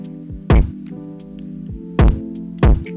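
Soloed future bass kick drums saturated with Cymatics Diablo Lite: three punchy, distorted hits land irregularly over a low sustained tonal hum, each one loud and close.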